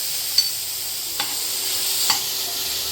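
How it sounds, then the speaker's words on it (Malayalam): Grated carrot sautéing in ghee in a pan for carrot payasam, a steady soft sizzle broken by two or three light stirring scrapes, close and alone with no talk. "ഗ്രേറ്റ് ചെയ്ത അതേ ഗീയിലേക്ക് തന്നെയാണ് ക്യാരറ്റ് ഇട്ട് ഒന്ന് വഴറ്റിയെടുക്കണം"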